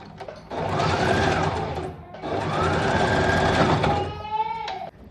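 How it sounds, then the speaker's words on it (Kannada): Close, loud whirring of a sewing machine stitching a blouse lining, in two steady runs separated by a brief pause, ending with a slowing mechanical wind-down. "ಇದನ್ನು ಫುಲ್ಲು ಲೈನಿಂಗ್ ಮೇಲೆ ಸ್ಟಿಚ್ ಮಾಡ್ಕೊತಿದ್ದೀನಿ"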